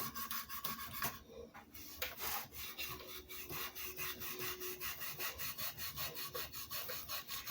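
Steel wool rubbed with finger pressure over the painted finish of a Les Paul-style guitar body, giving a close, steady run of rhythmic scratchy back-and-forth strokes with no talking.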